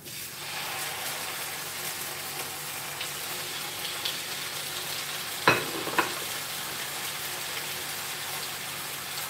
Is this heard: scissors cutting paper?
no